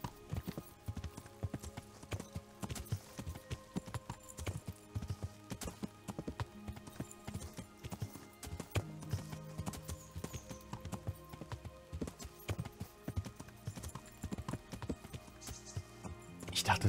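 Horse hooves clip-clop steadily in the Kingdom Come: Deliverance video game, a continuous rhythmic patter of footfalls at moderate distance running throughout, with game ambience and occasional voice underneath.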